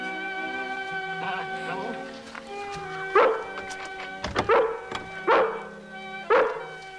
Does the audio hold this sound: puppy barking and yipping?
yes